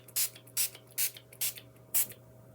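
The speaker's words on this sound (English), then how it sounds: "So I'm going to do just a couple of sprays" A super fine water mister fires five short, hissy sprays in an even rhythm, each a crisp airy burst close to the mic against a low steady hum.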